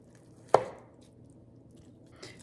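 A knife cuts through juicy cooked chicken in a single sharp close chop, followed by quiet and a faint second touch near the end.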